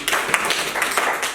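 Classroom clapping for a student who answered correctly, a short burst of several hands clapping together at close range, fairly loud and uneven, with no talk over it.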